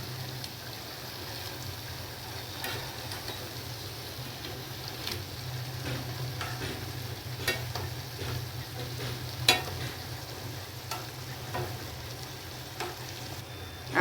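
Jalebi fry in a pan of hot oil with a steady, even bubbling sizzle that holds throughout, joined by occasional faint taps and clinks; no voices.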